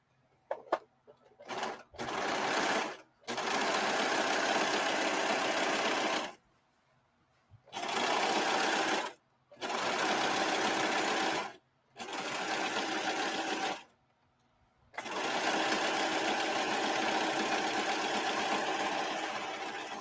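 Sewing machine stitching fabric in bursts, a loud, close, steady mechanical whir that runs for several seconds at a time and stops briefly between runs, with no voices over it.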